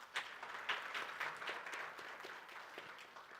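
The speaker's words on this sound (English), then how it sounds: "Please welcome them with a huge round of applause." Audience applause at the AIMA Young Leaders Summit 2024, welcoming dignitaries onto the dais: a steady, moderately faint wash of clapping that holds for several seconds without fading.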